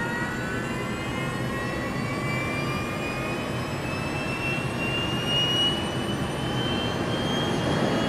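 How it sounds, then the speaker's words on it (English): A spaceplane taking off from an airfield on two jet engines, giving a continuous loud jet roar with a slowly rising whine throughout, no voices. "The sender takes off like an ordinary airplane from an ordinary airfield using its two jet engines."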